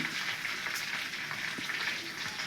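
Bay leaf, cardamom, cloves and cinnamon frying in hot oil in a kadai, a steady close sizzle that crackles evenly throughout with no voices.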